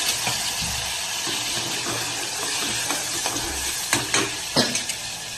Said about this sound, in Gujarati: તો તેના માટે હું અહીંયા મસાલા ના બળે એના માટે થોડું પહેલાં પાણી ઉમેરી દઉં છું